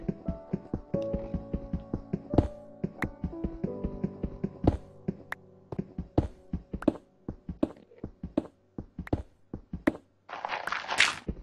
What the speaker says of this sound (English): You see me placing ladders oh here?